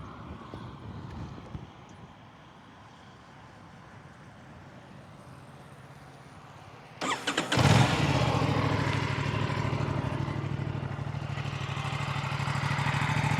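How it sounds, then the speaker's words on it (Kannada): An Aprilia RS457 twin-cylinder motorcycle with a 270-degree crank fires up after quiet background hiss, catching with a sharp burst and then settling into a loud, steady, throbbing idle close by. "ನಿಮಗೆ ಇಂಜಿನ್ ಆನ್ ಮಾಡ್ತೀನಿ."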